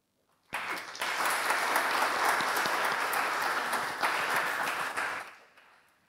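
Lecture audience applauding together during a career-development course session, a dense steady clatter of many hands that starts abruptly, holds strong for about five seconds, then tapers off.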